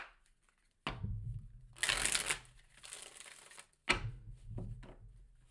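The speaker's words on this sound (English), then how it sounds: "Let's do one more shuffle." Tarot cards being shuffled by hand, two bursts of riffling and shuffling with a crisp papery crackle, close and fairly loud, separated by quieter pauses.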